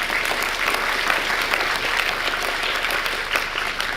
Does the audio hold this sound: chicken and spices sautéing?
no